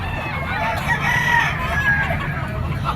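A gamecock stag crows at a poultry market in Padre Garcia, Batangas, its drawn-out call rising over steady crowd murmur and other nearby fowl.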